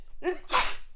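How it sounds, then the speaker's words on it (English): A single sneeze, short and close, with a quick intake of breath followed by a sharp burst, alone without talk. "Just me sneezing."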